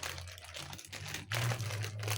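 Plastic packaging for a UV lamp crinkles and rustles close by while it is unboxed by hand, a continuous crackling handling sound with a brief pause and a louder burst midway.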